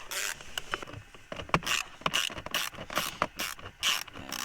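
Small T20 Torx screw being undone on the underside of a VW Polo 6R interior fan resistor pack, giving a series of close, dry ratcheting clicks and faint metallic scrapes in an irregular rhythm.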